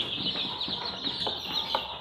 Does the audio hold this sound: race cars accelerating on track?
no